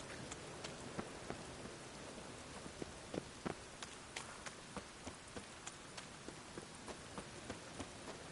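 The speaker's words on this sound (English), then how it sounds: "Rain again." Quiet rain falls in The Witcher 3: Wild Hunt as a soft, steady hiss, with many distinct drops tapping a surface in an irregular patter, and no voices.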